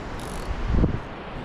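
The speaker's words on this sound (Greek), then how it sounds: "Φυσάει." Cold winter wind gusts across a seashore during shore fishing, a steady broadband rush that swells briefly near the middle, with no voices.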